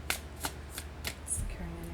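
A tarot card deck is flipped and shuffled, giving a quick run of crisp card riffles and slaps, about five distinct bursts over two seconds, close and clear with no talking.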